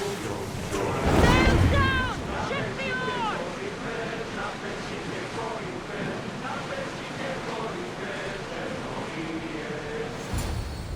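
Sailing ship cutting through sea waves in Assassin's Creed Odyssey, a steady wash of water and wind that holds throughout, louder near the start. Game music and voices sit over it.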